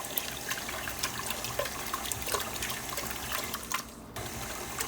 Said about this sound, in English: That cold water also helps the butter cling to itself.